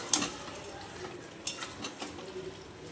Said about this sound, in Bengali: এটা আবার কষিয়ে নিচ্ছি আলুর সঙ্গে মাংসটাকে